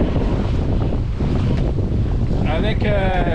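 Wind rushes loudly across a sailboat at sea with full sail set in about ten knots of breeze, a constant roar with water wash, joined near the end by a voice.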